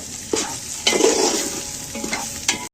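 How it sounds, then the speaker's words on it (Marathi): Homemade red masala being stirred in a pan, a spoon scraping and sliding in a few distinct strokes over a soft sizzling hiss, close and fairly loud, with no talking. "असा सगळा मसाला आपण मिक्स करून घेतलेला आहे"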